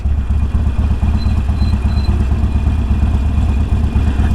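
A Honda Grom and a Suzuki Gixxer sport bike pass on the road, a loud, near engine drone with a rhythmic low pulse and rattly texture, steady throughout with no talk.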